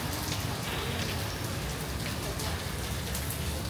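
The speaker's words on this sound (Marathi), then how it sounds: "इकडे अचानक पाऊस सुरू झाला" Sudden heavy rain in Singapore's Chinatown, a steady dense hiss of drops pattering on surfaces, loud and continuous throughout with no pauses.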